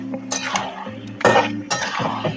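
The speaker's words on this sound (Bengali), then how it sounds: "মাংসটা দিয়ে ভালো করে একটু নেড়ে নিই" Chicken meat being stirred in a metal pan for chilli chicken, with a few sharp clinks and scrapes of the utensil against the pan over a low steady hum.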